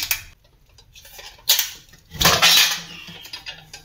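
A few sharp metallic clinks and a scraping clatter as a metal lid is set down on an antique Chettinad metal vessel, close by in a quiet room.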